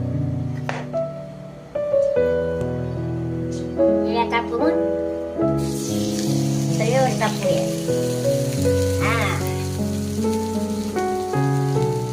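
Cabbage thalipeeth made from wheat, rice, jowar and lentil flours with coriander and chilli fries in oil on a pan, giving a steady crackling sizzle that swells partway through, heard beneath a voice talking.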